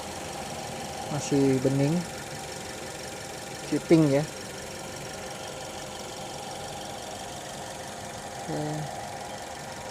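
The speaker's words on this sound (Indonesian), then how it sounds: "Ini kondisi mesin sudah menyala, bisa didengar suaranya halus sekali." A 2008 Suzuki SX4 X-Over's engine idles at a steady, low, smooth hum throughout, with someone talking briefly over it a few times.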